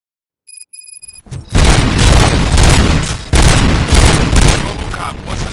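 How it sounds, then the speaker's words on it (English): Gunfire in the RoboCop: Rogue City video game erupts after a few faint electronic beeps: a sudden loud boom followed by a sustained, dense barrage of shots and blasts that pulses in heavy waves. "Gunshots? What's going on?"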